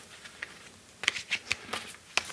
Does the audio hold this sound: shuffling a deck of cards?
yes